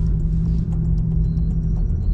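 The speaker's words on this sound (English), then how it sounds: "Come on, that's full throttle now." A Mazda CX-50 crossover strains at full throttle on an off-road slip test, a dense continuous engine roar with wheels spinning, close and loud.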